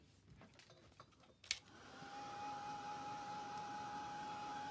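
A heat tool drying Distress Oxide ink stamped on glossy photo paper: after a few soft handling clicks, a steady blowing whoosh with a thin whine switches on and runs evenly, close up.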